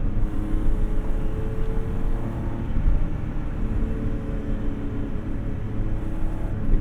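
A BMW E30 318iS with a swapped S52 engine driving, a continuous loud low engine rumble heard from inside the car, steady with slight surges throughout.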